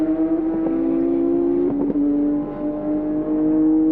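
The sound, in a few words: Porsche race car at the 1997 Le Mans 24 Hours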